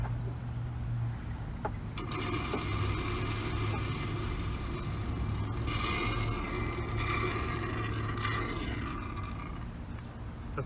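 A pump sucks the last oil out of a diesel's oil filter housing during a topside oil change, giving a steady mechanical hum with gurgling, slurping air-and-liquid noise that swells in the middle, fairly faint and with no talking.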